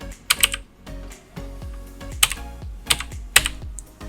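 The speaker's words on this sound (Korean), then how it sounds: "여기에 아까 보셨던 것처럼 타이핑을 하는 거죠" Keys clacking on a computer keyboard in irregular bursts, some strokes sharp and loud, others softer, close up with no voices.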